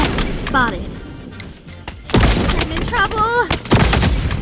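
Sniper rifle shots from the M700 with the Seraph skin in a shooter video game, sharp loud reports standing out amid game noise and explosions, with someone talking over much of it.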